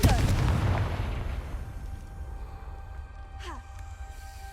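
A Confringo blasting spell bursts in Hogwarts Legacy, a loud booming explosion at the start that rumbles and decays over several seconds, with a brief whooshing effect near the end.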